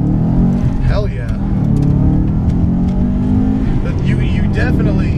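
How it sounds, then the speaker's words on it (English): Rally-tuned, modified 2007 Subaru STI with roughly 350 horsepower revs up and pulls steadily from inside the cabin, a continuous close engine drone running throughout while people talk over it. "it's tuned like kind of like a rally car, you know, 350 horse and then 450 torque or whatever"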